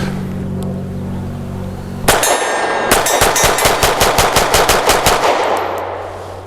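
A Grand Power Q1S pistol fires a rapid string of shots at a steel target, a single shot followed by a fast burst of about a dozen sharp cracks mixed with metallic dings, loud and close outdoors.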